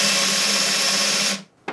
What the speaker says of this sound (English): So one problem with this chainsaw is that there's no bar oil.